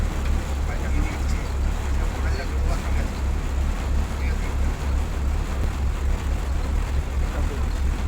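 Boat cruising through the Sundarbans mangrove forest, a steady, close low engine drone with wind and water wash running throughout, while people talk faintly in the background.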